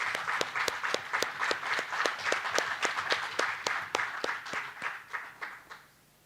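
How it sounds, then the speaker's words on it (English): A small audience at a science lecture on DNA/RNA therapeutics gives a round of applause, heard as distinct, rhythmic claps that stay fairly even and then thin out and fade near the end. "Please join me in this great applause."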